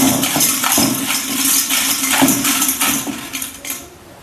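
Coins are stirred by hand inside a metal pot for a prize draw, giving a continuous close jingle and clatter of metal on metal with repeated sharper clinks throughout.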